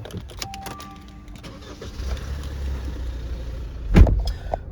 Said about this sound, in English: Just going to jump in and start the car up here